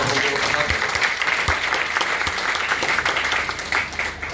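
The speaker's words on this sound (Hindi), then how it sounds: "तो जहाँ अच्छा लगे थोड़ा थोड़ा ताली भी बजाना है" An audience at Chanakya Academy in Hazaribagh claps steadily, with close, dense applause filling the room for the whole stretch and easing slightly near the end.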